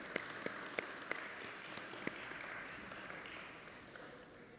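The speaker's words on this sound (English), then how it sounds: "yes, you can clap." An audience claps steadily at a church gathering, soft and somewhat distant, with a few sharper nearby claps standing out early on.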